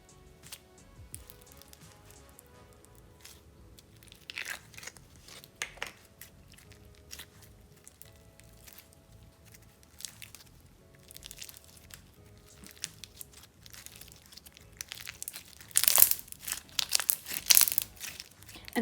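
Blue crunch slime packed with large foam beads squeezed and worked by hand, giving close, dense crackling and bubble pops that build into louder bursts near the end.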